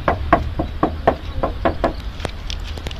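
Knocking on the metal body panel of a 2000 Isuzu Panther car, about a dozen sharp hollow raps in an uneven rhythm, close and fairly loud, with no talking.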